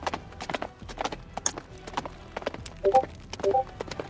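Horses gallop in a video game battle, giving a close, busy clip-clop of hooves in irregular clusters, with a faint whinny and scattered thuds, no talk over it.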